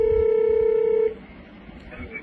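A phone ringing with an incoming call: a steady electronic ring tone for about a second, then it cuts off, leaving quiet room sound with a person speaking faintly.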